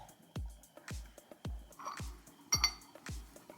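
A lid goes down onto a pot of slow-cooking Bengali mutton curry, giving a run of sharp metallic clinks and taps, about six evenly spaced knocks close by with no talking.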